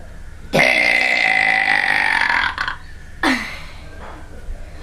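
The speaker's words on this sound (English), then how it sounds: "I just could just keep burping for like at least 8 minutes" A man lets out loud, drawn-out burps: one long, droning belch lasting about two seconds, then a shorter second burp after a pause, close to the microphone with no talking.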